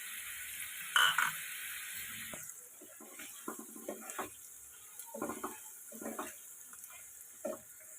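Spices stirred in a pan while banana flower cooks: a faint sizzle with a brief louder hiss near the start, then scattered quiet scraping strokes of a spoon against the pan.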